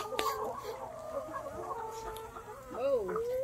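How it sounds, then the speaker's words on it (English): Farm chickens cluck and warble nearby in a short, busy stretch, with rising and falling calls over a low background of shuffling and faint voices. "Look at the chickens"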